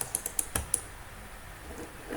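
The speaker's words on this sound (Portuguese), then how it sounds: "dar 2 cliques rápidos aqui no slot do mouse" A computer mouse clicks in a quick series of sharp, close taps during AutoCAD drafting work, then falls silent beneath a faint room hiss.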